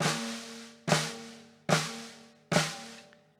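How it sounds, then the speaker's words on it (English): Four separate flams are struck on a snare drum, each a sharp doubled hit with a ringing decay, evenly spaced and heard alone at close range. "we were hitting flams on our snare drum"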